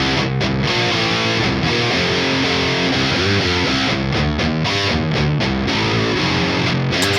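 Distorted electric guitar amp tones summed in mono without alignment, a dense fuzzy wall of chugging chords with thin, hollow low end, loud and continuous with no voice.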